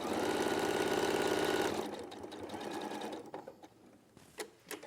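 Sewing machine stitching fine thread through fabric, a steady rapid mechanical whir for almost two seconds, then stopping into quieter handling clicks and rustles, heard up close with no talk.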